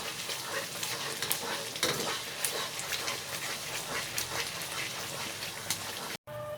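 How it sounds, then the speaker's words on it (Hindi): A spoon stirs thickening semolina halwa in a pan, making continuous close scraping and swishing over a soft sizzle. There is a momentary break near the end. "आपने इसमें लगातार चम्मच हिलाते रहना है।"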